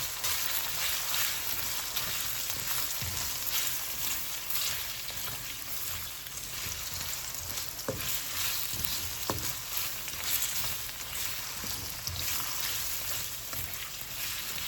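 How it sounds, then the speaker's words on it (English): Rice sizzles in a pan on the stove, a steady low frying hiss running throughout with occasional scrapes and clicks of stirring, fairly quiet and close. "I'm gonna go ahead and cook the rice now"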